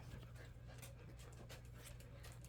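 Dogs panting heavily and steadily after a 20-minute Frisbee session, a continuous rapid breathing rhythm close by with no talking.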